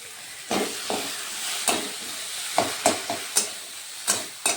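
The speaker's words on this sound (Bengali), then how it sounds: "ওগুলোও দিয়ে দিচ্ছি একসাথে। এগুলোকে একটু ভেজে নেব পুর করার জন্য।" Garlic, onion and green chili paste is fried and stirred in a pan for a Bengali stuffed flat bean dish, with a steady sizzle broken by about eight sharp scraping stirs, close up and with no speech.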